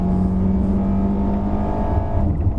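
An Audi Q3 climbs a hill road at Genting under acceleration, engine tone droning loud and close from inside the cabin and easing as it shifts up.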